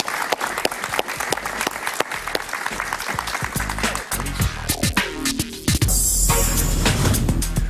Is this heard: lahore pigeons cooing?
no